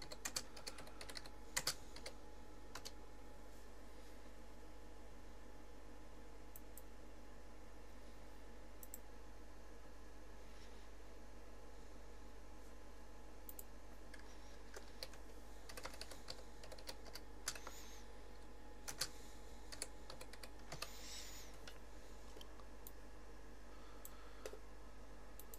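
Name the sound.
typing on a computer keyboard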